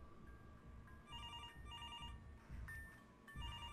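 A telephone in Mr. Hopp's Playhouse rings in repeated short bursts of bright electronic tone over a low background rumble, with no speech.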